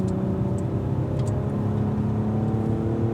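A Cadillac V-Series race car on a circuit at Spring Mountain gives off a steady engine drone with a low rumble, holding an even, continuous tone with no clear rise in pitch.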